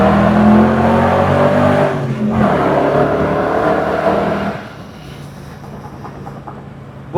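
A BMW engine revs hard under a tunnel beneath a monorail, its loud, echoing roar holding strong before easing off to a lower idle-like rumble near the end. No one speaks over it.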